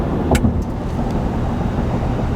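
A 2025 Ford F-series pickup with a 3.55 HO Power Stroke diesel engine cruising in 10th gear at around 1500 RPM, a steady, loud low drone with road noise and no talk.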